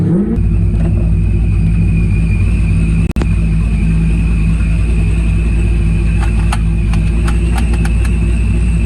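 Boosted small-block Chevy S10 truck driving, a loud sustained engine roar with a strong low rumble and steady drone, one brief dropout midway and faint clicks near the end, no talking.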